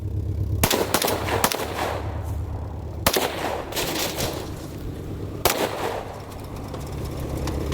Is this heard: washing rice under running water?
no